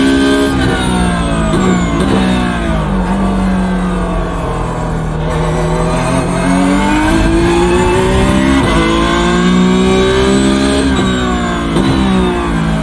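A race car engine in the iRacing sim, a Porsche on track, howls loudly and continuously, its pitch climbing and falling through repeated gear shifts and revs with no break.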